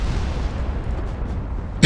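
Deep rumbling battleship gunfire rolls on in Ultimate Admiral: Dreadnoughts, a heavy low boom fading through the stretch before a sharp new blast hits near the end.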